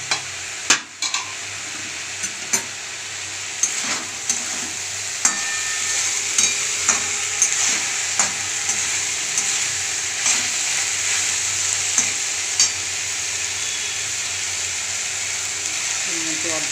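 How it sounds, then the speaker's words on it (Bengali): Prawn and potato curry sautéed in a pan, a continuous hissing sizzle with regular scraping clicks of a spoon stirring, close and fairly loud, with someone briefly talking. "কষতে দিয়েছিলাম, এটা দেখে নেব।"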